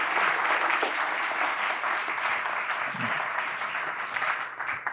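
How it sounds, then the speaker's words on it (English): An audience at an archaeology talk applauds to welcome Bill Doelle, with steady, full clapping throughout and no voices on top. "The man needs no introduction, but give him a round of applause"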